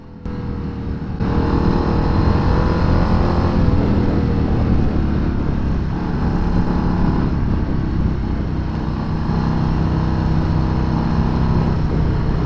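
A Harley-Davidson Street Bob 117 motorcycle engine starts up and runs with a deep, thumpy grunt, a steady close idle rumble that holds throughout after a brief quiet opening.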